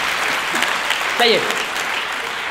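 Audience applause at a live comedy show in Hyères, a steady clatter of clapping that runs under a performer's brief spoken words.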